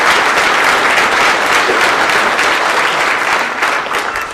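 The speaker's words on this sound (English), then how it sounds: "If you could give them a round of applause." Sustained audience applause at a university hall of fame banquet, steady dense clapping from a large room filling the whole stretch without pause, tapering slightly near the end.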